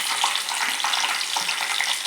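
A few leaves fry in hot ghee, giving a dense, bright sizzle with crackles and small pops throughout, close and steady.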